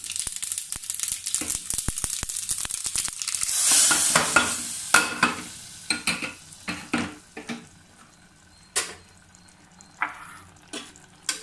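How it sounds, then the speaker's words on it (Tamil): Mustard seed and chili tempering stirred into hot spinach koottu, a close crackle and sizzle that fades into scattered scraping clinks of a spoon against the pot. "கடுகு நல்லா பொரிஞ்சு வந்த பிறகு கூட்டல கலந்துடணும்"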